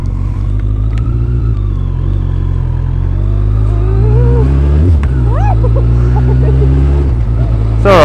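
A motorcycle carrying a pillion passenger shifts gears roughly on a road: a loud, steady engine drone with pitch that dips and climbs through the changes, sometimes with faint voices under it.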